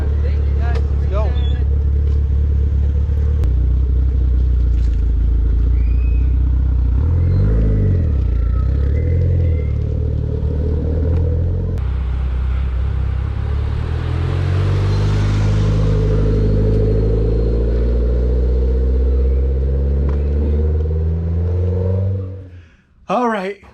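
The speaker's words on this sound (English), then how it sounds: "he's gonna be driving the car, just test driving it in town" A repaired DSM car, fixed after a blown head gasket with the cylinder head reinstalled, idles and then pulls away for a test drive, its engine rumbling steadily nearby before revving up and fading off.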